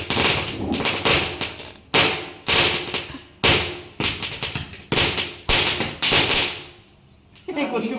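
Diwali firecrackers bursting in a rapid string of sharp loud bangs, each trailing off, with voices in the background.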